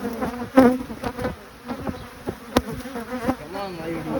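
Bees buzz at a beehive, close and loud, their hum rising and falling in a busy swarm with sharp clicks and handling noises throughout.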